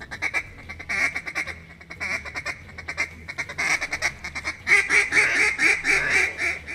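A duck call blown in an aggressive, loud feed call, a rapid chattering run of quacking notes repeated in bursts, growing louder toward the end, close and alone without talk.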